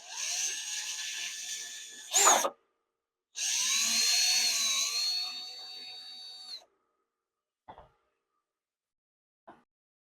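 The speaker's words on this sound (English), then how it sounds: "And that's where we're going to drill the hole." A power drill whines in two bursts while drilling a hole in a small flocked mouse figure, the second burst longer and steady, followed by silence and a couple of brief knocks.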